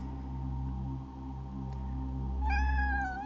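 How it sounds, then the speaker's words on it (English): A short cat meow sound effect for an animated character comes in near the end, a bright wavering cry over a steady humming background. "Does a little cat meow."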